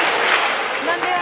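A crowd at a community visit in Samacá, Boyacá claps together, a dense, steady patter of many hands close by with voices mixed in.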